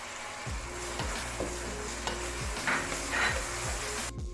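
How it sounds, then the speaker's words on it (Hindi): Onions and finely chopped tomatoes fry in a pan with a steady sizzle, while a utensil scrapes and stirs in regular strokes about every half second, close and clear with no talking. "तो अब ये प्याज तकरीबन 5 मिनट हो गए इसमें भून रही हूँ"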